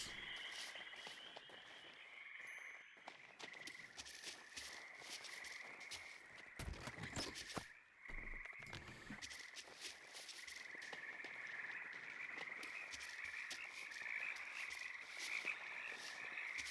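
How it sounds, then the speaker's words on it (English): A steady chorus of frogs croaks throughout an outdoor scene in the video game The First Templar, a dense continuous trilling with occasional footsteps and rustles layered in, no talking. "I hear frogs, but I don't see any."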